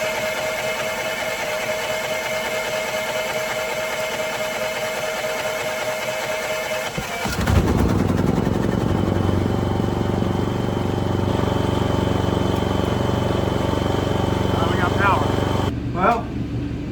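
A carbureted gas engine on a welder generator cranks and catches about halfway through, then runs as a loud, steady drone in a shed workshop, with a brief dip near the end.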